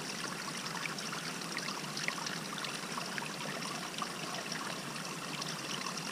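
A wilderness stream trickles and burbles steadily at close range for about six seconds, with no talking, while a water bottle is filled at the water's edge.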